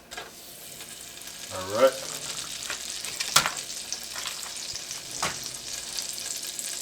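Butter, a tablespoon or two, sizzles and spatters in a pan on medium heat while being stirred, a steady close frying hiss with a few louder pops and one brief spoken word over it.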